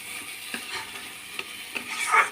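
Taro leaf curry stirred in a frying pan, a soft scraping spoon passing several times over a quiet, steady sizzle, close and faint with no voices.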